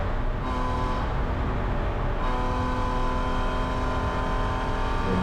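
A BMW Spec E90 race car engine at Watkins Glen in the rain, a loud continuous drone that eases in pitch as the throttle is lifted, heard close up from inside the car.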